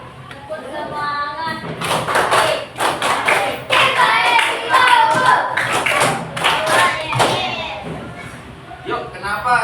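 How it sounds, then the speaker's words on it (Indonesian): A class of schoolchildren claps a rhythmic tepuk semangat chant, with bursts of clapping and thumps mixed with young voices talking and calling out in the room. "Coba kakak kelas memimpin tepuk semangat"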